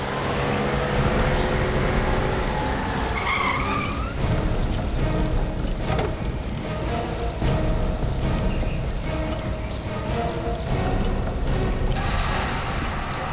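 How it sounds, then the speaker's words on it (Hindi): A car arrives through a heavy downpour, its low engine rumble half-buried under steady, loud rain drumming on surfaces for the whole stretch. "कोई गाड़ी आई है।"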